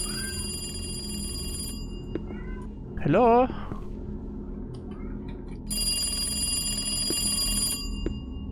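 A telephone rings in the horror video game Lost Lullabies, a steady electronic ring heard near the start and again near the end over a low ambient drone, with a brief voice in between.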